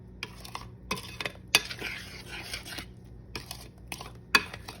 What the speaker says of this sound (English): put in this flour mixture